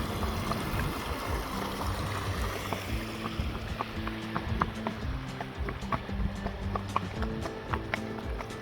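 Man's horse clip-clopping along a long, lonely road near Hill End, hooves striking in a steady walking rhythm over a continuous low rumble, with no talk.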